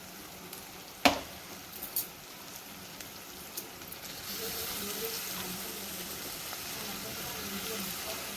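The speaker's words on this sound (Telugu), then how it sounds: "టమాటాలు అయితే మెత్తగా ఉడికే వరకు ఫ్రై చేసుకోవాలి." Tomatoes fry in a pan for gongura curry. A soft sizzle rises to a steady hiss after a few sharp clinks of utensils against the pan.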